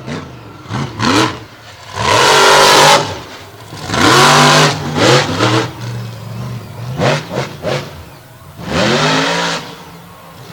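Monster truck engine at Tri City in Franklin, PA, revving loudly in repeated surging bursts as it launches toward the bus stack during a freestyle run, the roars rising and falling several times, close and dominant.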